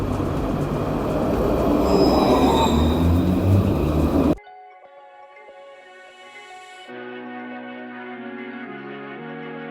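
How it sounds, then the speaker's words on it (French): A Lyon tram pulls in, its loud rumble and screeching wheels filling the first few seconds before the noise cuts to quiet tonal hums and chimes, with no one speaking. "Et le tram arrive, on y va."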